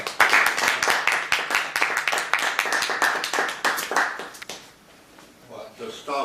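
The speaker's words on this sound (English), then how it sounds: "give him a round of applause" Audience at a general meeting applauds a guest speaker, a lively burst of many hands clapping nearby that tapers off after several seconds into a quieter room.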